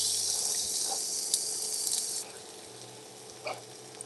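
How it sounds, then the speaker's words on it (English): Carrots sautéing in canola oil in a pan give a soft, steady sizzle with faint crackles, quiet and close, easing slightly partway through. "So usually when I'm sauteing my vegetables, I love to start with carrots."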